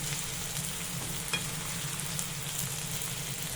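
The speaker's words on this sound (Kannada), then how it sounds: "ಈರುಳ್ಳಿನ ಫ್ರೈ ಮಾಡಿ ಚೆನ್ನಾಗಿ ಬಾಡಿಸ್ಕೋಬೇಕು" Onions frying in a pan for ridge gourd chutney, an even, continuous close sizzle with faint occasional stirring clicks.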